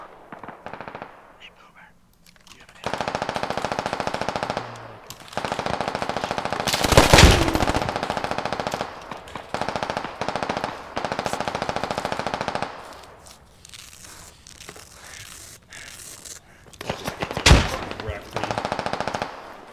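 Machine gun fire in the video game Squad rattles out in long sustained bursts with short gaps between them. A couple of louder single blasts stand out, and players talk over the shooting.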